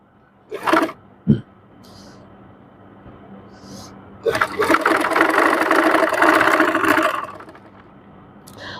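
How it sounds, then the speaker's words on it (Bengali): An electric sewing machine runs a steady burst of several seconds while stitching a narrow hem on a sleeve cuff, preceded by a couple of short knocks and faint starts, close and fairly loud. "চিকন করে এরকম করে হেমিনের মতন করে একটা সেলাই দিয়ে নেব আমি হাতার মুহুরিটা"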